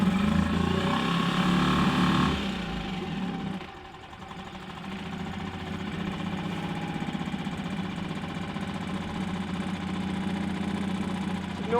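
A 6 horsepower outboard motor on a sailboat runs steadily and loudly, with a brief dip in level early on before settling back into a continuous mid-pitched engine drone.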